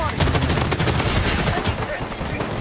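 Rapid automatic gunfire from a P90 in the video game Blood Strike, dense continuous bursts filling the whole stretch at close range with voices faintly mixed in.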